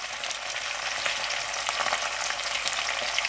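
Chicken fries with salt and cumin in a kadai, giving a steady, close sizzle with light stirring scrapes and no voices.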